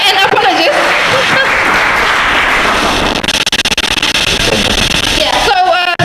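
An audience applauds at a college quiz event in Brikama, Gambia, with loud, dense clapping that fills the first half before thinning out as a voice talks over it.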